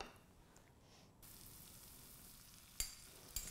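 Chopped onions hit hot oil in a tagine dish and begin a soft, steady sizzle, followed by two sharp clinks near the end.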